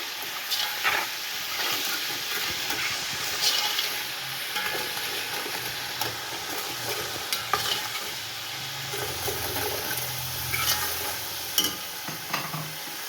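Cumin, black pepper, cloves and fennel fry in oil alongside onions for chicken yakhni pulao, a continuous nearby sizzle broken by occasional stirring scrapes, with no one speaking.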